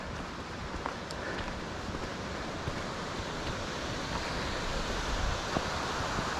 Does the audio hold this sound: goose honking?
no